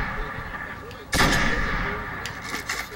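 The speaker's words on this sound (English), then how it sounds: "I'm gonna just snipe you" A single loud sniper rifle shot rings out in the Destiny video game, a sharp broadband crack with a lingering tail over steady game ambience, later followed by fainter mechanical clicks.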